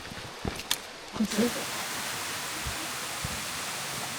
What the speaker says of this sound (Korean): 이 아름다운 폭포를 보고 무슨 생각이 드시나요?